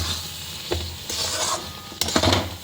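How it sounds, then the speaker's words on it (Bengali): A spoon stirring thick tamarind pickle in a pan after vinegar goes in, giving short scraping strokes with a soft sizzle underneath, close and fairly clear. "ভিনিগারটা দিয়ে ভালো করে মিশিয়ে নেবে"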